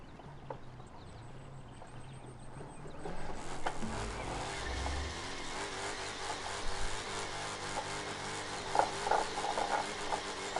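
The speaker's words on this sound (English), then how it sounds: "I guess I'll just do donuts on parking lot" Video game car spinning donuts in a parking lot, engine revving and tires scrubbing in uneven surges after a quiet start, moderately loud, with no talk.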